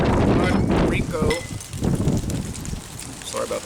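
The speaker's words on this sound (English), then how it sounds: "sorry about the wind, it's kicking up." Gusty wind roars and buffets the microphone outdoors, loud at first and then easing to a lower, fluttering rush with a faint tonal whistle near the end.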